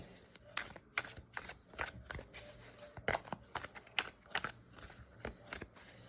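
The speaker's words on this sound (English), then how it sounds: "Let's give them a little flick, get that old energy off" Tarot cards are flicked and shuffled in quick, crisp bursts of snapping and riffling, close up and fairly quiet, with no talking.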